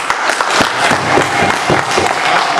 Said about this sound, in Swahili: naomba tumpigie makofi mkono